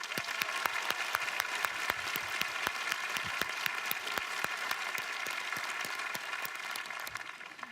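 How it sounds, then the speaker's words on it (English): Sustained applause from a high school graduation ceremony audience honouring the faculty, a dense steady patter of many hands with individual sharp claps standing out, continuing evenly throughout without talk. "let's give all of our faculty a round of applause"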